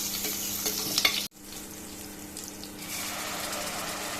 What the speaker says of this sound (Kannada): ನೆಕ್ಸ್ಟು ಆನಿಯನ್ ಹಾಕ್ತಾ ಇದ್ದೀನಿ.